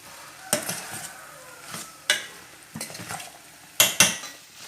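A spoon stirring grated coconut into a snake gourd stir-fry in a pan, several sharp metallic scrapes and clinks spaced a second or so apart over a soft, steady sizzle.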